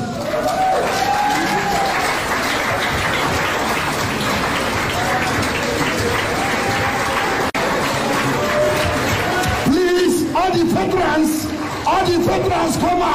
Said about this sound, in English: let us give them a very big round of applause